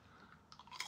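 Crunching on a baked Gouda Red Leicester cheese snack, a few quiet, close bites and chews over barely a second, with no talk.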